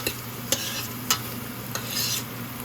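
Chopped garlic and ginger sizzle steadily in a hot pan while a utensil scrapes and stirs, giving a few distinct sharp scrapes over a constant close frying hiss.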